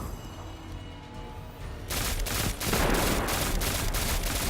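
Pulse rifle fire in Destiny 2 kicks in partway through: a quiet stretch of ambient hum gives way to loud, rapid bursts of shots with a sustained roar between them, no voices over it.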